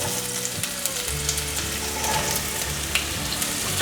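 Carrots and red mushrooms stir-frying in a hot wok, a dense continuous sizzle with faint clinks and scrapes of quick tossing, close and steady, with a low background hum.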